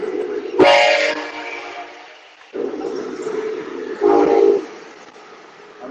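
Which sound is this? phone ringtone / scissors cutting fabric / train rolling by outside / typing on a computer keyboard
train rolling by outside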